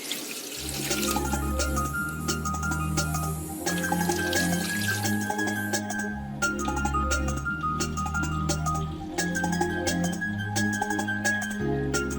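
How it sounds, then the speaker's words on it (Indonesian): Water poured from a tap into a pot for a homemade distillation experiment, a steady, full gushing stream with slight shifts in pitch as the pot fills, close and continuous. "Pertama, tuangkan air di dalam panci."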